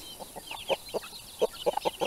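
Chickens cluck in short, repeated bursts nearby, a quick irregular series of soft clucks over a quiet background.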